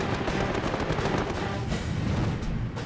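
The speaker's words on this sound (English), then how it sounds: "the staccato burst of machine guns and cannon" Machine guns and cannon on WWII fighter aircraft fire in a dense, continuous rattle of bursts, loud and sustained with no talk over it.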